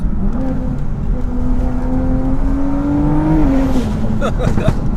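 A 625bhp big-turbo BMW M2 pulls hard, its engine note rising steadily through the gear and then shifting, loud and close from inside the car, with turbo whir and road rumble underneath.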